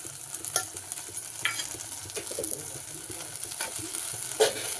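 Sugar being stirred into mango halwa in a pan, a steady soft scraping and gentle sizzle with a few louder spoon strokes, close and alone with no talk.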